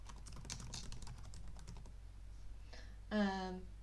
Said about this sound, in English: It's as easy as just typing something.